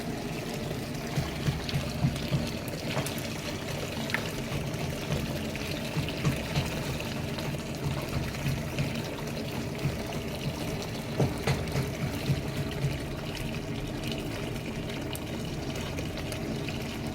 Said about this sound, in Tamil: நல்லா வடிகட்டிடணும்.